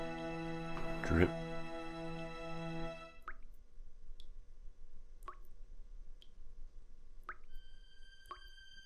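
Dripping sink in a video game apartment, a sustained tonal note at the start giving way to single clear drips falling a second or two apart, sharp and isolated over a quiet background.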